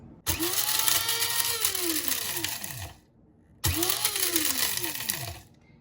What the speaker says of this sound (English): Just gonna grind it up in my coffee grinder.